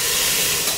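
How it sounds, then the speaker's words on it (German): Water pouring steadily into a pot of potatoes, a continuous close rushing hiss with no talk over it. "Die Kartoffeln, da machen wir jetzt einfach nur Wasser ran."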